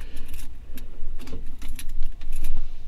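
Keys jangling in the ignition of a 1961 Mercedes-Benz 190SL roadster, a close, loud run of metallic clinks and rattles with a low background rumble.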